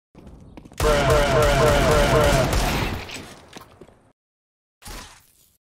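Gunfire in the video game CS:GO, a sustained burst of rapid automatic shots at close range, then a short pause and a single later shot.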